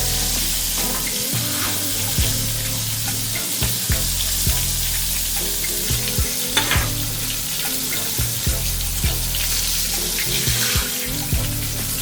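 Chicken pieces fry in hot oil for a crunchy buttermilk-style coating, giving a continuous close sizzle with scattered pops and occasional knocks and clatters from cookware, with no talking.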